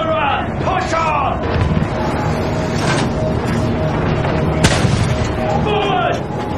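World War I battle in the Battlefield 1 video game, with machine gun fire, booming artillery and sharp gunshots rattling steadily under an officer's shouted commands.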